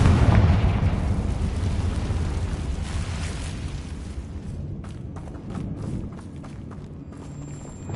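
Confringo blast spell going off in a Harry Potter video game, a loud rumbling explosion at the start that rolls on and slowly decays, with scattered crackling debris and small pops trailing through the later seconds.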